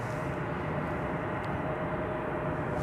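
An American Airlines Boeing 737-800 at DFW Airport passes as a steady, distant jet roar with a faint tonal whine, constant throughout and with no speech.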